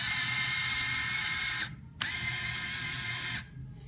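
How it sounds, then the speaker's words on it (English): A motorized belt on a custom Lego city blacksmith shop model runs with a steady whirring, clicking mechanical drone, stopping briefly and restarting, then dropping off near the end, close and continuous with no talk. "The belt here is motorized."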